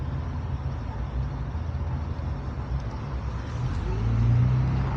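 A small V6 car drives past a rider on an e-bike, its low engine rumble steady under road noise and swelling louder near the end as it passes close.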